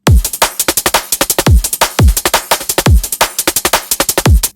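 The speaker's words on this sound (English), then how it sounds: "And then all together, so the drums sound like this." Sampled drum loop of deep booming kicks, snare and clap hits with ticking hi-hats, driving at a fast steady tempo, loud and punchy with no voices.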